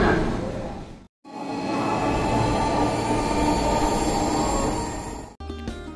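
Dhaka Metro Rail train arriving at an underground-style station platform, a loud steady rumble with squealing wheels and rail noise after a brief silent gap, then doors and clatter as it comes to a stop.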